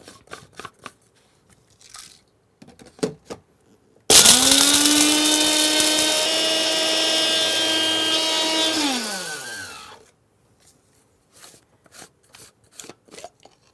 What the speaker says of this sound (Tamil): இதை நம்ம அப்படியே கொஞ்சம் ட்ரையாக முதல்ல அரைச்சிடலாம்.